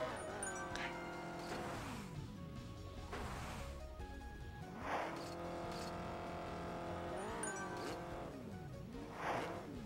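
Motorbike engines whine and rise and fall in pitch in Excitebike World Rally, with repeated revving sweeps and passing swells under game music, moderately loud and continuous.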